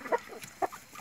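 Hens in a coop lit by an artificial lamp give two short, close clucks about half a second apart over a quiet background.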